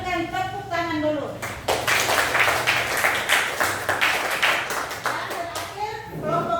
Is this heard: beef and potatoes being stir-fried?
no